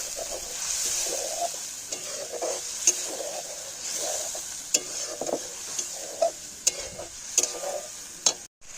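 Spice paste for a country chicken gravy sautéing with a little water in a pan, a soft hiss punctuated by rhythmic stirring scrapes and a few sharp clinks of the spoon, close and quiet.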